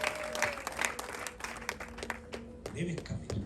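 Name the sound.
wedding guests applauding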